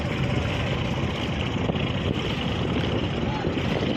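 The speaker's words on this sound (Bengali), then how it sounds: "এই যে আমাদের সামনে চলে গেল টাইটানিক জাহাজ, বাঙালি টাইটানিক জাহাজ মর্নিং সান 5" The large river passenger ship Morning Sun 5 passes on the Buriganga river under cloudy skies, a loud, continuous broadband engine and water rumble with wind buffeting, steady throughout.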